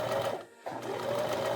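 A sewing machine stitches fabric up close with a loud, continuous mechanical whir. It stops briefly partway through, then runs again at the same steady pace.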